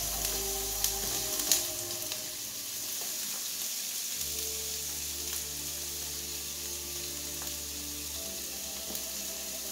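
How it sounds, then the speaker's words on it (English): Onion sautés in a pan for a burrito filling, a continuous near sizzle that holds steady throughout, with a couple of faint utensil clicks early on. "I have to saute the onion first."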